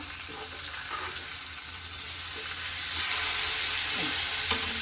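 Chicken pieces for mandi sizzle steadily in a pan after being flipped, with occasional scraping and stirring sounds close by, the frying growing slightly louder toward the end.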